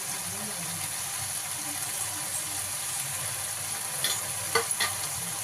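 Chicken fries in a pan with coriander stirred in, giving a steady bright sizzle and a few sharp scraping strokes near the end, close and with no talking.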